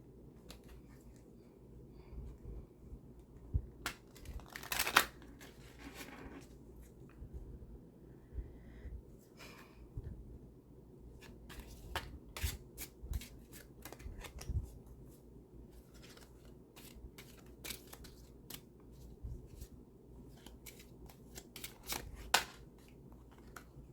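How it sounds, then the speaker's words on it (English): An oracle card deck is shuffled with soft, intermittent riffles and scattered card flicks against a faint, quiet room background. "So right now I'm just clearing and shuffling the deck."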